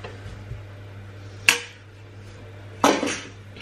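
Butter being mixed into cookie mixture in a bowl for Christmas cookies, heard as two sharp clattering knocks of utensil against the bowl over a steady low hum.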